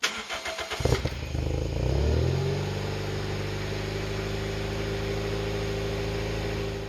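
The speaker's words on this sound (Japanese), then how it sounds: "早速エンジンをかけてみます。 まずはコールドスタート。" A motorcycle engine cold start: it cranks a few times, catches and starts, then settles into a steady, rumbling idle nearby.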